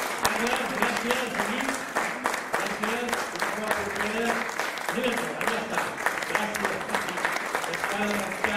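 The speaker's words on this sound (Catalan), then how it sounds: "Ho voldria un aplaudiment per Carles." Audience at a poetry book presentation claps in warm, sustained applause with sharp individual hand claps, while a voice speaks underneath the clapping.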